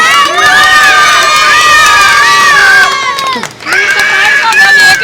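A group of children screams and shrieks together at a birthday surprise, loud sustained high-pitched cries that dip briefly before surging again, close and overlapping.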